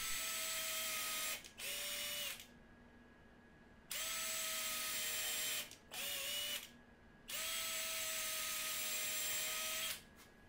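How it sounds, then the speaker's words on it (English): Power drill running in three long bursts and a couple of short ones, with pitch dropping under load, while pre-drilling and driving 3-inch screws into wood for a gear stand; close and loud, with quiet gaps between bursts. "And then I'm gonna pre-drill and then bolt those in with those 3-inch screws."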